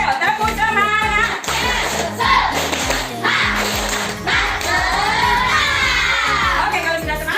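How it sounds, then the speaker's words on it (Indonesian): A class of students does a rhythmic spirit clap in an Indonesian classroom. Loud patterned clapping sounds together with children's shouting and chanting voices, continuous and close. "Tepuk semangat dulu yuk"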